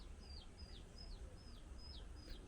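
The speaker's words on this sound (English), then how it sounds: "it's so silent, let you hear the birds singing" Six thin, high chirps repeat at an even pace over a low background rumble, small birds calling faintly outdoors.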